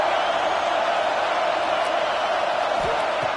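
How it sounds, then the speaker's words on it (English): Dense, steady roar from a packed football stadium crowd, loud and continuous with faint whoops rising from the wash of noise. "listen to this crowd noise. This stadium is vibrating"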